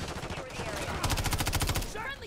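Automatic gunfire in Modern Warfare 3, a rapid burst of close shots in the middle, with voices and other game sounds around it.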